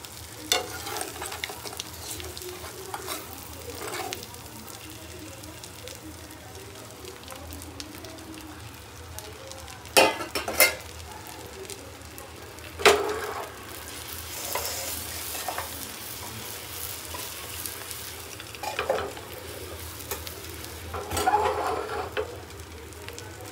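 Eggs fry in masala on a hot tawa over a high flame, giving a steady sizzle with occasional louder scrapes and stirring clatters, close and continuous with no talking.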